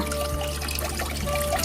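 Water trickling and pouring steadily while dogs are bathed, close and fairly quiet, a continuous splashing stream.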